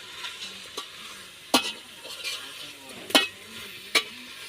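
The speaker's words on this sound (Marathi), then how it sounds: "हे मटण उमत घातलंय बघा" Mutton browns in hot oil in a home kitchen pan for a birthday biryani, a steady sizzle broken by several sharp, close scrapes and knocks of the stirring spoon.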